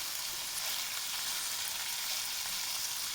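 Rice being stirred in a pot while cooking with saffron, a steady soft sizzling hiss that runs evenly throughout with no clear individual strokes, fairly faint and without talk.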